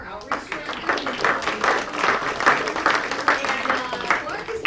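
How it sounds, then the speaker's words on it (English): An audience claps at a senior center 50th anniversary gathering for outreach director Clark Alderman, a scattered moderate round of applause mixed with murmuring voices in a room. "Clark Alderman, we can clap for Clark Alderman."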